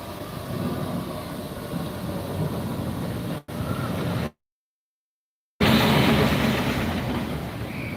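An amusement ride train at Animal Kingdom, Walt Disney World, rumbles and clatters past steadily, a broad roar of wheels on track, cut off briefly by a gap of silence before resuming.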